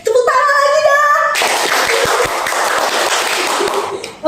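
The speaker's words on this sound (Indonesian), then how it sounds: "Tepuk tangan lagi dong." A studio audience gives a short burst of applause, a dense patter of clapping that starts after a brief spoken moment and fades near the end.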